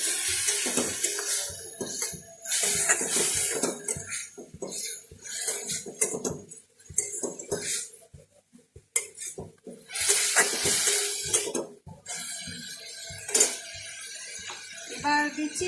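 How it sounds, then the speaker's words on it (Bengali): A utensil stirs ginger-garlic paste and green chilli paste in a cooking pan, giving uneven scraping and clinking with short bursts of sizzle between quieter pauses. "একটু নেড়ে নেব।"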